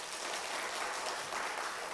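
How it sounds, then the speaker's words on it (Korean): A church congregation at a Christmas Sunday worship service gives steady, even applause, a soft, dense wash of clapping with no break. "하여튼 박수를 좀 한번 크게."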